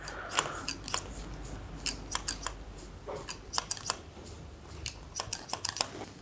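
Hair-cutting scissors snipping through elevated hair during a medium-length cut, long on top and short on the sides: repeated crisp, close metallic snips in uneven bursts, heard alone without speech.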